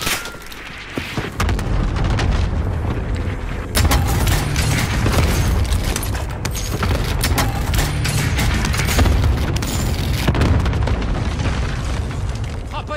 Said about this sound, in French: Frappe aérienne, tirez sur ma cible. Ici Phoenix 3, frappe imminente.